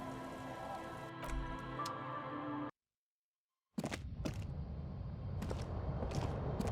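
Steady rain in the game Disco Elysium, a continuous soft patter with occasional creaks and small knocks, briefly cutting to total silence before resuming at the same faint level.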